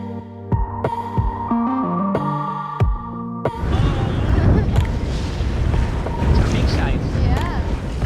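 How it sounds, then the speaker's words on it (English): Wind of about 15 knots from behind rushes and roars over a sailing boat on open water, a loud, continuous blustery noise that follows a stretch of music at the start. "We've got pretty good wind, about 15 knots, but it is mostly from behind"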